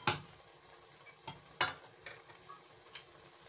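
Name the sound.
mutton pulao cooking on low flame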